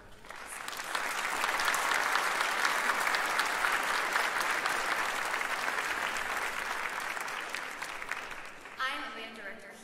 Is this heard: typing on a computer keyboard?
no